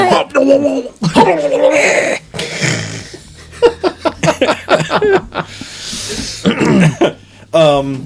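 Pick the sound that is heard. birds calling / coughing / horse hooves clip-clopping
coughing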